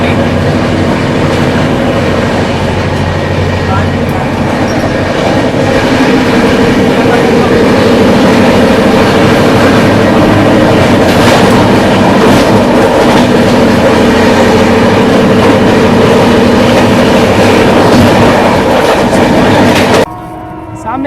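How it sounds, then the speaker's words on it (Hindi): Humsafar Express train running at high speed past Khurja Road, a loud, continuous rumble with rhythmic wheel clatter heard from on board, cutting off abruptly near the end. "फिलहाल हमारी ट्रेन खुर्जा रोड स्किप कर रही है, खुर्जा रोड फ्लैट 130।"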